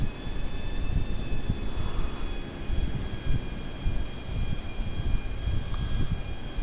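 The Shamal jet in GTA V roars steadily through the whole stretch, a constant broadband engine rumble with a faint high whine over it and no talking.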